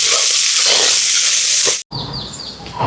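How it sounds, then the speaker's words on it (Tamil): Shallots and garlic sautéing in a pan, a steady loud sizzle and hiss for nearly two seconds, then a brief cut and a quieter frying crackle with faint high tones. "சின்ன வெங்காயம். இப்போ இதெல்லாம் வதங்கட்டுக்கு நல்லா."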